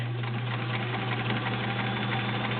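A vintage 1970s Kenmore model 1410 sewing machine with a 1.2 amp motor runs steadily up close, an even mechanical hum with a fast rhythmic clatter and no pauses.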